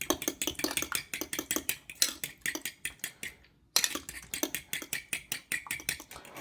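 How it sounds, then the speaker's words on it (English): Breakfast burrito ingredients are mixed briskly in a bowl, a close, steady run of rapid clinks and scrapes that pauses briefly midway, then resumes at the same busy rhythm. "Let's give it a good mix."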